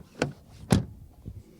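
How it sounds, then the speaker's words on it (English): Door of a BMW SUV shut, heard as a few short dull thuds, the middle one loudest and deepest, close and alone. "Then we open the door, and door closing sound."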